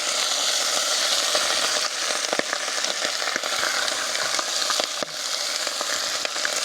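Sausages frying in a pot on a camp stove, a steady loud sizzle with continuous crackling and occasional sharper pops and scrapes, heard alone without talk.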